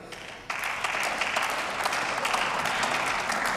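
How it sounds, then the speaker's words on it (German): Applause in the German Bundestag after a speech, starting suddenly half a second in and continuing as an even, moderately loud spread of clapping across the chamber. "Applaus"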